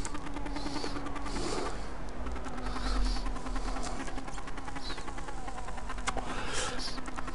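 A persistent insect-like buzzing drone, a car engine sound glitch in the racing game Project CARS, fills the whole stretch, steady and fairly loud, with a slight wavering pitch and no voices.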